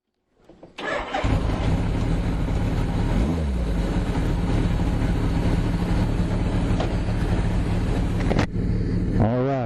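A 1981 Suzuki GS850 motorcycle fires up and settles into a loud, steady engine drone close by, with a brief rev bump early on and a quick cut near the end, with no talk.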